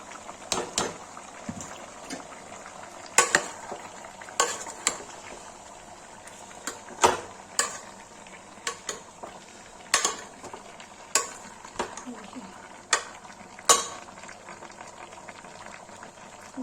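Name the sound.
chicken and onions frying in a pan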